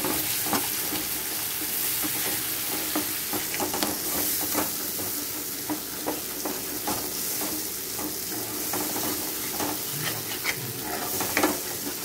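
A Telugu-style mutton curry masala, a paste of cashews, poppy seeds and dried coconut, fries steadily in a pan, giving a loud continuous sizzle and hiss broken by frequent scraping stirs, with no talking.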